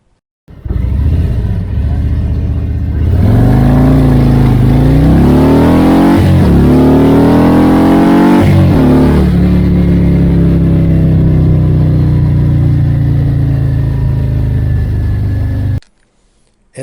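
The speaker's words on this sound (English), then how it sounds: "this is the 114 police bike with the stage 2" A Harley-Davidson police motorcycle with a 114 engine and stage 2 tune idles, then revs hard through several gear shifts as it accelerates, and settles into a loud steady drone before cutting off abruptly.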